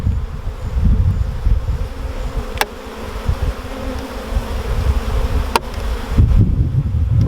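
Honeybees buzz close and loud around a horizontal beehive, a dense, continuous drone with a couple of sharp clicks over rustling handling noise.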